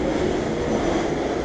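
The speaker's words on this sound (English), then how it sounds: "I'm gonna edit out the airplanes" Propeller airplanes pass overhead near a house under renovation, a loud, continuous engine drone that fills the brief moment without any speech.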